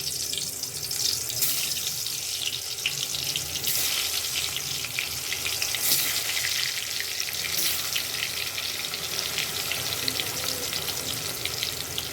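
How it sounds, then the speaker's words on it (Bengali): Potatoes rubbed with salt and turmeric fry in hot oil for a jackfruit curry, a loud, continuous hiss and sizzle that holds steady throughout at close range, with no one speaking. "তেল গরম হয়ে গেছে, এবার আলুগুলো দিয়ে দেবো।"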